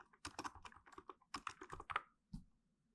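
Rapid bursts of keystrokes on a computer keyboard while entering input for a JavaScript page, close and crisp clicks in quick clusters with short pauses, ending on a single heavier key press.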